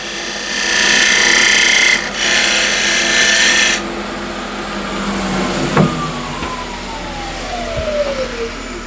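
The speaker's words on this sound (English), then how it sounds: "And the spindle gouge." Wood from an old window sill spins on a lathe while a spindle gouge cuts into it, a steady scraping hiss over the motor hum that cuts off partway, followed by the lathe winding down.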